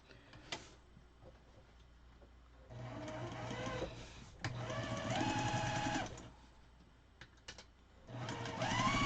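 A sewing machine stitching a quilt seam runs in three close, steady whirring bursts of a few seconds each, separated by short quiet pauses that hold small mechanical clicks.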